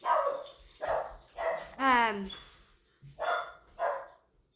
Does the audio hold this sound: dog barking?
yes